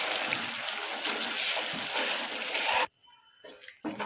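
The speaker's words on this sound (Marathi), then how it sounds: "यामध्ये आपण आता या वाटलेल्या मिरच्यांचं मिश्रण टाकूया आणि मंद आचेवर याला असं मिक्स करूया" Ground chilli paste for Schezwan chutney is stirred in a pan over low heat, giving a loud, steady sizzling hiss for about three seconds that drops to quieter, intermittent scraping and spatter.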